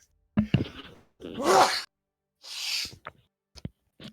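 A loud, close sneeze: a voiced intake then a sharp breathy burst, followed by another hissing exhale and a few small clicks.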